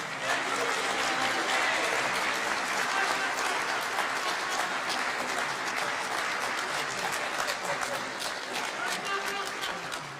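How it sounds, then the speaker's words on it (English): A large crowd at a noon music concert in Sacramento, California applauds steadily for the whole stretch, a dense wash of clapping that stays loud throughout before easing slightly near the end. "One more round of applause."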